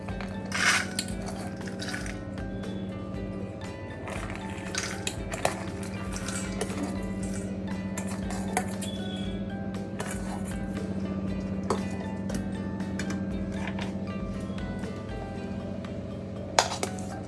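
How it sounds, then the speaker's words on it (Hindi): Sprouts salad ingredients get stirred in a bowl, producing light, scattered clinks and taps of a spoon against the dish over a steady low background hum, with a sharper knock near the end and no talking. "अब मैं ये सब सामग्री मिलाने जा रही हूँ।"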